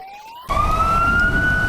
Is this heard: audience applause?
no